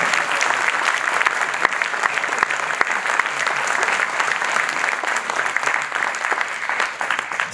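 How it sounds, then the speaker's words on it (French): An audience applauding steadily at a local political gathering in Antony, a dense, even wash of clapping that holds throughout at close range with no voices on top. "on peut déjà l'applaudir pour l'encourager"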